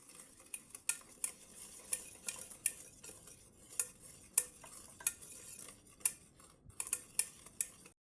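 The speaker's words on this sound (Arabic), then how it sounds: "ونخلطو مليح لين يذوب السكر" A utensil stirs a sugar mixture in a bowl for Tunisian biscuits, producing rhythmic clinks and scrapes against the sides, close and fairly quiet, repeating at an irregular pace.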